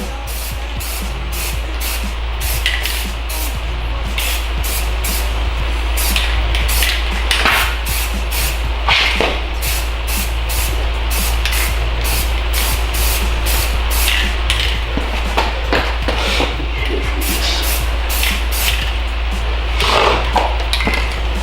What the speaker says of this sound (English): So just spray a light coat on.